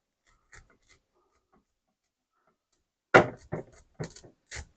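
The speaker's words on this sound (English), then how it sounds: "we're going to go along the edges. Cut down through." A knife cuts down along the edges of a pineapple, giving a few scraping, crunching strokes after a long quiet stretch, close and fairly loud.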